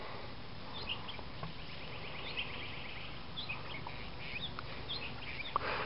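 Parrots gathering capeweed seeds give scattered faint chirps and squawks over a steady outdoor background hiss, with no voices.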